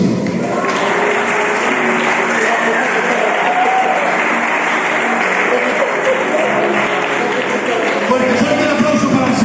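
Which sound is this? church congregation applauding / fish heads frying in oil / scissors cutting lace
church congregation applauding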